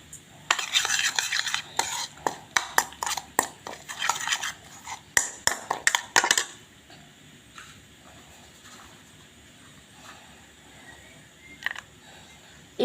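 A spoon clinks and scrapes rapidly against a bowl while sesame seeds are mixed with coriander-cumin powder, salt and red chilli for a Gujarati-style Korean dish, busy for several seconds, then only faint occasional taps.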